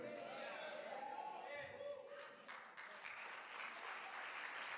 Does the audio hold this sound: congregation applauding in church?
yes